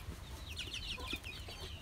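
A six-week-old KUB chicken gives soft, rapid clucks and chirps close by, over a low background hum, with no talking.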